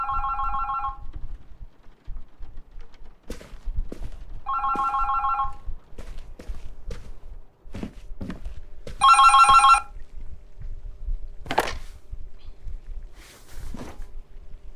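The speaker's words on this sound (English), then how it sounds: "Oh, the phone?" A telephone rings in an apartment in Berlin, three separate trilling bursts a few seconds apart, clear and nearby amid quiet room noises and soft movement.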